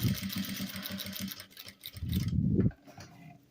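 A sewing machine stitches a bag with bias binding, a steady rapid needle chatter up close that stops, then a short louder run before falling quiet.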